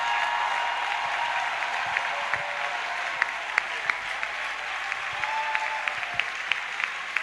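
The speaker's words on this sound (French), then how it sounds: "On acclame très fort le Seigneur Jésus-Christ de Nazareth." A church congregation applauding Jesus Christ, dense sustained clapping from many hands filling the room evenly, with a few sharper individual claps standing out, steady throughout without voices over it.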